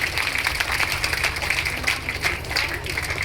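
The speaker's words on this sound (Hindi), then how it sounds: "जोरदार ताली एक बार बुआ जी के लिए।" A crowd at a Bhagwat katha gathering claps steadily in a dense, continuous wash of applause, fairly even in loudness throughout.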